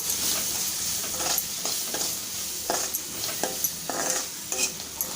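Vegetables being stirred with Maggi masala in a pan for spicy noodles, a steady sizzle broken by repeated scraping strokes of a spoon against the pan.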